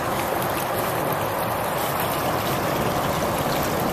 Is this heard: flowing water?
yes